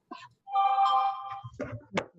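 A phone ringtone sounds during an office sales meeting, a short electronic melody of steady tones with a few brief clicks and bits of sound after it, moderately loud.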